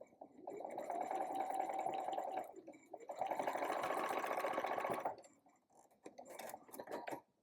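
A sewing machine stitches across a quilted placemat in two sustained close runs with a short pause between them, followed by quieter clicking and handling sounds.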